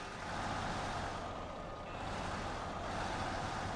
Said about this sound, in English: So here it's like beeping really fast.